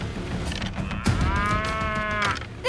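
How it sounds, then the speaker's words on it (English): Cattle butt heads in a scuffle, with heavy thumps and scraping followed by a long, loud, drawn-out moo that rises and falls, all close by against a rustling background. "This poor guy waking up to these cows butting heads and then nearly getting trampled on."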